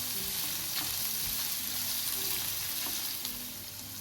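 Ginger and garlic sauté in a pan of oil for a Kerala-style chutney, giving a steady, moderate sizzle with faint stirring scrapes throughout.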